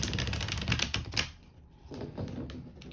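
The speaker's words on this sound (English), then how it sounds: "I'm gonna bump my camera, riffle shuffling here" A tarot card deck being riffle shuffled close up, a rapid flutter of cards snapping together for about a second, then quieter softer shuffling and handling of the cards.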